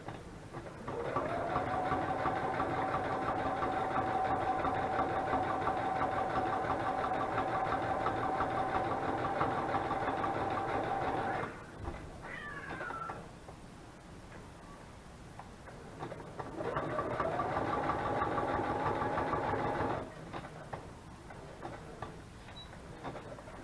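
Sewing machine running a zigzag stitch on paper journal ephemera, two long steady whirring bursts close up, separated by a quieter pause with light handling noise, no voices.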